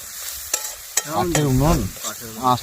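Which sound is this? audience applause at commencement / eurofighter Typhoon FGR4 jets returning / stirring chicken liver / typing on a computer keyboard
stirring chicken liver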